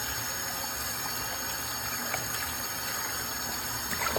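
Steady running water pours continuously at close range while rinsing blood from a deer cape for taxidermy, a constant gushing wash with no talk.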